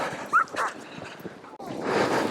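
Sled dogs on a snowy trail give short yips and whimpers, one sharp at the start and another a moment later, along with a burst of broad rustling. No words are spoken.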